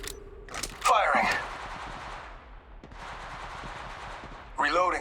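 Rapid automatic weapon fire in Apex Legends, sustained bursts with short gaps, heard over game ambience with brief character voice callouts around the shooting.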